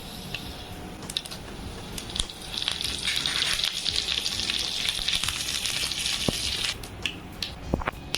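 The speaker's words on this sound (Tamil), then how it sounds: "அடுத்தது கடலைப்பருப்பு ஆட் பண்ணிடலாம். நல்லா கொஞ்சம் ஃப்ரை பண்ணுங்கள்." Chana dal frying in oil in a pan for neem flower fried rice, a loud, steady crackling sizzle that swells in the middle and then eases, with scattered pops and no talking.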